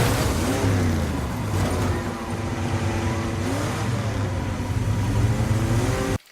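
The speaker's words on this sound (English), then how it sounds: "And suddenly a car comes driving through the walls." A car engine revs hard as the car bursts through the walls of a trailer, a loud, sustained mid-pitched roar with rising and falling tones that cuts off abruptly at the end.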